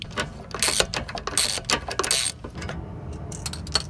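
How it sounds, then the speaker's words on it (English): A ratchet turns a 6mm Allen bit during Mustang suspension work, producing quick bursts of metallic clicking in uneven runs, close and fairly loud, with brief pauses between strokes. "I'm gonna be using this Allen wrench, and it says it's a 6mm attached to my ratchet"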